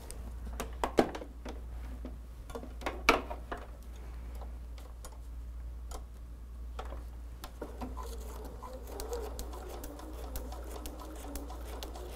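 A sewing machine stitching foundation paper piecing, quick bursts of ticking stitches between pauses over a low steady hum, close and moderately quiet, with no speech.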